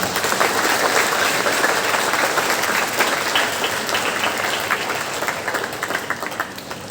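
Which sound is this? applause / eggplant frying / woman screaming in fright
applause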